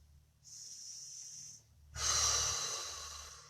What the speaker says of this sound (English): Inhale, open that right side. Now inhale.